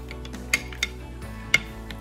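A spoon stirs homemade slime made from hand soap, baking soda and water in a bowl, giving three soft, separate clinks and taps against the bowl over a quiet, steady background, with no talking.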